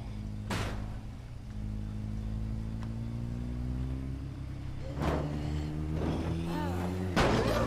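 A truck drives in the zombie survival video game State of Decay, its engine droning steadily at close range with a few rising revs and sharp thumps, under faint background game sound.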